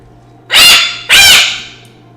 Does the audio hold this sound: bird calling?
yes